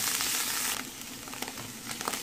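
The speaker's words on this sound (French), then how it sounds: "on ajoute nos champignons. Je mélange bien. Je mijote environ 1 à 2 minutes aussi." Mushrooms sautéing in a pan with onion for spinach and salmon mini quiches, a close, steady hissing sizzle that eases after the first moments, broken by light scrapes and clicks of stirring.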